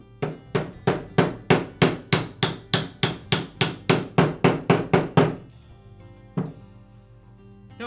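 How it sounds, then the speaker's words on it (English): A rapid run of about sixteen steady hammer taps on a socket seats a bearing onto a Makita angle grinder armature shaft. The blows are loud and close, followed by a pause and one final tap. "I'll seat the bearing back onto the armature shaft using a socket that has a diameter the same as the diameter on the inner bearing race."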